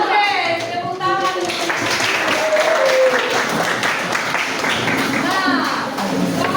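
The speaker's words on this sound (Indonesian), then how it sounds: "Oke, tepuk tangan." A classroom of students claps hands together, a busy, sustained patter of many claps mixed with children's voices and chatter, loud and close throughout.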